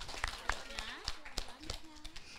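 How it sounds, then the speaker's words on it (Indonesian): Applause for a child performer at a kindergarten talent show, heard as scattered, fairly faint claps over a busy room with a voice through a loudspeaker. "Berikan tepuk tangan kepada Claudia."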